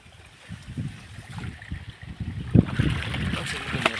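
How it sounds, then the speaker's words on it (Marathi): Irrigation water gurgles and trickles nearby in a shallow flow through a field, uneven splashing that grows a little louder toward the end. "तुम्हाला दाखवते आपलं पाणी इथं चालू आहे."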